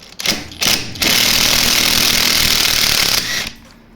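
Impact gun spinning off the 12mm rear caliper bracket bolts on a 2005/06 Honda Civic, loud close hammering in a couple of short bursts and then one sustained rattling run of about two seconds.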